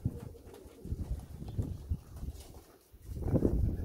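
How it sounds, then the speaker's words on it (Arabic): Pigeons coo softly and low as they land to feed, with soft rustling and movement close by. "حنا غنتسناو الحمام حتى يهبط كامل باش ياكل ماكله كامله"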